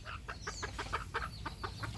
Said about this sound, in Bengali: দেখুন কি সুন্দর বনমুরগি।